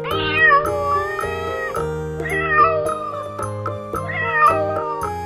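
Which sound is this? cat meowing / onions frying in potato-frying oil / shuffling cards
cat meowing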